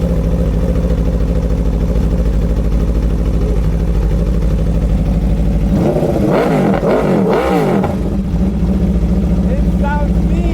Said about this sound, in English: Yeah, I want to hear the exhaust.